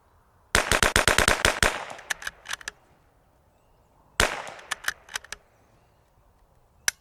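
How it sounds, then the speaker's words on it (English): An RPR rifle fires ten rapid shots at a target in two sharp bursts, the first a fast string and the second a few spaced shots, loud with ringing tails and no talk. "I'm gonna go to that last target and I'm gonna shoot these 10."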